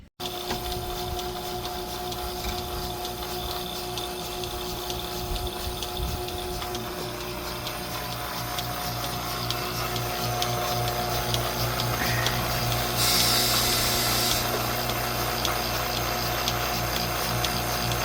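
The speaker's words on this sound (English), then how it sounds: "We're gonna set up the milk machine and try to get her emptied out." A milking machine runs on a farm animal, a steady mechanical pumping drone with faint rhythmic pulsing that holds evenly throughout without talk.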